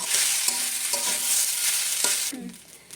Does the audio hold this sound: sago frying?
yes